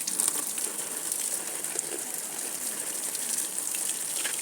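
Water is poured over plants in a small home garden, a steady, close gushing splash that runs without a break and with no talking.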